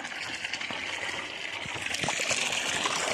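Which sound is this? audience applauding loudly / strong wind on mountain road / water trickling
water trickling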